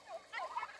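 A turkey gobbling on a small farm, a quick warbling call of a few pitched bursts, faint and brief, with no speech.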